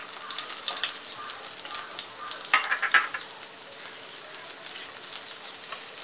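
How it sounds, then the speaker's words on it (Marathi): Sliced onions, cut lengthwise, fry in two to three spoons of oil in a pan while browning for chicken biryani. A soft, steady sizzle runs throughout, with a few sharper stirring clicks near the middle. "त्याच्यामध्ये आपण हे कांदा आहे ते ब्राऊन करून घेणार आहोत"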